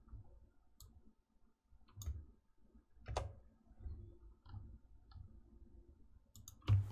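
Soft plastic button clicks from a calculator, pressed one at a time at an uneven pace, close and quiet with a louder press at the end.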